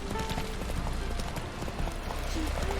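Hooves of Roach, the horse in The Witcher 3 video game, clip-clop in a quick, steady galloping rhythm, close and continuous, with faint game background sound underneath and no talking.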